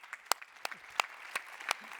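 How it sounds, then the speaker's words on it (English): Audience at a conference opening session clapping, with sparse, scattered individual claps over two seconds, fairly faint and thin rather than a full ovation. "it really deserves a round of applause"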